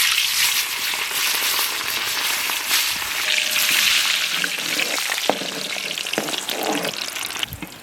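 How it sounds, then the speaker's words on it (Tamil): Garlic and onion sauté in hot coconut oil for a village-style coconut milk fish curry, giving a loud, steady sizzle with occasional crackles and stirring clatter close by, and no one speaking. "வெள்ளை பூண்டையும் வெங்காயத்தையும் வதக்கி எடுப்போம்"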